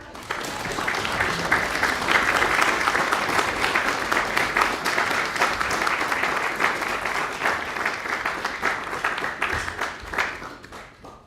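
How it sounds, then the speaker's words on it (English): Enthusiastic audience applause at a scholars' recognition event at the White House, rising quickly to a steady roar of clapping and tapering off after about ten seconds. "Can we give Ms. Wilson a round of applause"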